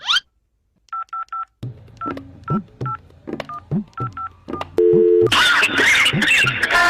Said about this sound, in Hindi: सर मैं अभी फोन करता हूँ